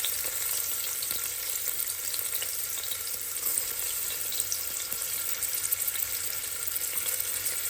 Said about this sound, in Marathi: आता हे कांदा टाकून घेते तेलामध्ये